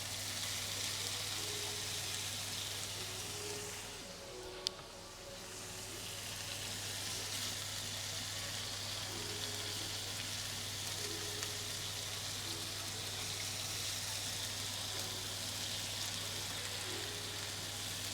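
Thai khao soi noodles frying in hot oil, a steady broad sizzle that carries on for the whole stretch. A low constant hum lies underneath, and a brief louder crackle rises midway.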